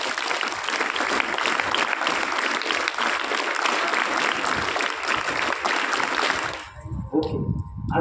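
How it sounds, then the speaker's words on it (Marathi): An audience breaks into dense, loud applause that rolls on evenly for several seconds and then stops abruptly, giving way to quieter room sound. "स्वतःसाठी एक 3 टाळ्या"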